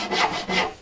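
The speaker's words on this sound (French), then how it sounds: "je prends ma petite scie à queue d'aronde, là, pour faire les deux entailles latérales" A small dovetail saw cuts into wood with two close, rasping strokes, each rising and fading in quick succession.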